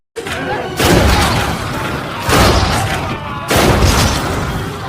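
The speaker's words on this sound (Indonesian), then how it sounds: "Auto pun menembaki zombie itu berkali-kali" Booming shots fired at zombies in the video game Zombie Fighter, three heavy blasts spaced about 1.5 seconds apart, loud and close, each with a long rumbling tail.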